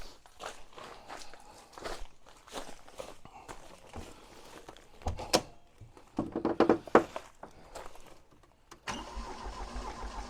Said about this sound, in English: I've got some cranking action and the heater fan is going berserk inside there, running at full speed